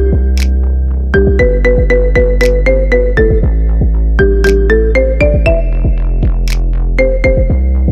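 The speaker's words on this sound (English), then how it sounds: "Download now and enjoy this as your ringtone." A marimba remix ringtone plays loud, bright struck mallet notes in a quick bouncing melody over a steady low bass pulse, with sharp percussive hits accenting the beat throughout.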